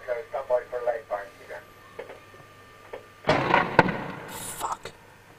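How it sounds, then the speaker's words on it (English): A controlled explosion of a suspect bomb during a 1996 bomb scare in Calne goes off with a sudden loud bang and a brief rumbling tail, preceded by crackly radio-style talk. "Controlled explosion."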